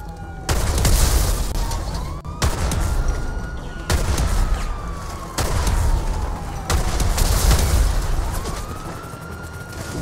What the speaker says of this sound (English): every bullet you shoot with any gun will make explosion